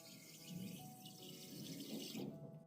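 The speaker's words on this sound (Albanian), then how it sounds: "Në një tenxhere më të madhe, vazhdojmë të shtojmë 1 litër me ujë" About a litre of water pours into a large pot for homemade vanilla pudding yogurt, a soft continuous splashing stream that tapers off just before the end, quiet and with no voices.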